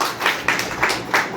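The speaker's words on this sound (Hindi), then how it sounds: "ताली बज सकती है।" An audience at a live session in Ghaziabad claps at a steady beat of four or five distinct, evenly spaced hand claps, fairly close and moderately loud, with no talking over them.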